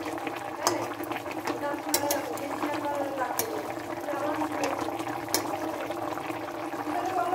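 Mustard hilsa fish simmers in a pan on a home stove, a steady bubbling and sputtering with scattered sharp pops and clinks, heard close under a low continuous hum.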